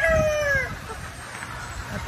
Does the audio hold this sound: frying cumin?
no